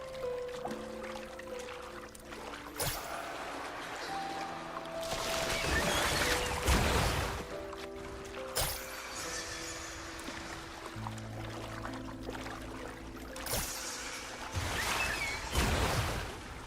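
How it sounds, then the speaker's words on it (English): A huge waterfall in the video game Wuthering Waves rushes in a steady broadband roar, swelling louder in places, with soft game music tones drifting underneath and no voices. "That's a really big waterfall."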